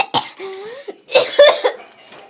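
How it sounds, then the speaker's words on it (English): A child coughs a few times close by in short, sharp bursts, with a brief voiced sound between the coughs. "I've got a little bit of a cough."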